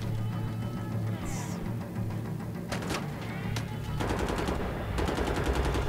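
Automatic gunfire in the shooter Wolfenstein: The Old Blood, rapid bursts of shots cracking over a steady game soundscape, with sharper repeated shots toward the end.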